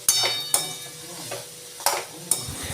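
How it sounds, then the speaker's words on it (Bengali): Mixed vegetables with bitter gourd, pointed gourd, potato and pumpkin fry in a pan, with a soft sizzle beneath several sharp scrapes and clinks of a spatula stirring against the pan. "সব রকম আনাজ দিয়ে করলাটা হালকা ভাজা হয়ে যাওয়ার পরে দেখো আমি কুমড়ো দিয়ে দিলাম"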